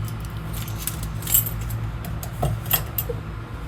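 A ring of black door keys and silver baggage-door keys for a 2022 Jayco Jay Flight 295BHS travel trailer jingles close by in a few short metallic shakes, with light clinks around 1.3 and 2.7 seconds and no talking.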